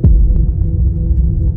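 A loud, close heartbeat sound effect throbs with a deep low pulse, repeating steadily under a constant dark hum, with no voices.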